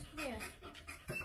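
A dog pants rapidly and nervously in a house, a quick rhythmic breathing close to the mic, with a person talking at the same time.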